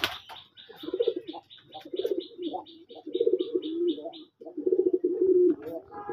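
Native red pigeons coo in repeated, rolling phrases at a pigeon farm, close and fairly loud, with faint chirps from other birds in the background.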